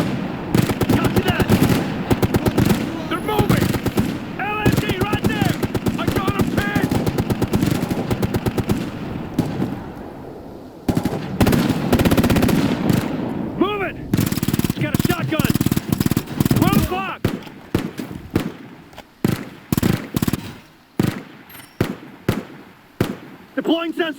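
Light machine gun fire rattles in Ghost Recon Future Soldier during a mountain firefight, with long sustained bursts giving way to shorter, choppier volleys and single loud reports. Voices are heard under the gunfire.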